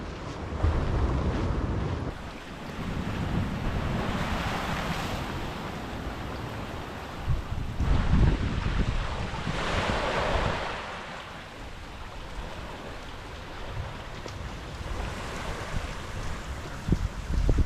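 Waves break and wash on a beach in surging swells, with broadband roar rising and falling, low rumbling and wind buffeting the microphone throughout.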